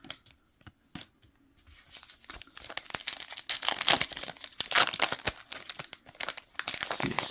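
Foil wrappers on 2026 Topps Heritage retail card packs are torn and crinkled open close up, starting with a few sparse handling taps and then growing into dense, loud ripping and rustling.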